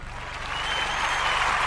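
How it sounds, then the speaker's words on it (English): Audience applause at a comedy show, a dense crowd of clapping that starts moderate and swells louder, continuing steadily with no voices over it. "Hey, you gotta clap it up for me, man."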